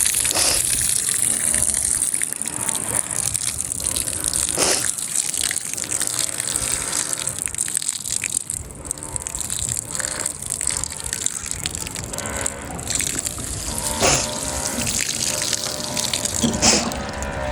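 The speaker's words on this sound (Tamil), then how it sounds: "இப்போ அதுக்கு கொஞ்சம் தண்ணி பூவாளியால் விடுவோம்" Water gushes steadily from a watering can onto newly planted leeks in a home garden, a continuous close pour with no break.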